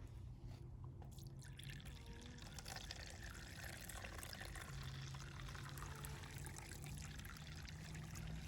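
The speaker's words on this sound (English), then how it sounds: "Now we're going to pour this through the cloth, or through the paper towel." Bee alcohol wash liquid poured through a paper towel, a quiet continuous trickle and dribble of liquid running steadily for several seconds at close range.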